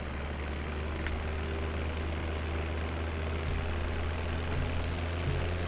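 Tractor engine idling steadily in Farming Simulator 17, a low continuous rumble held close and even throughout with no talk.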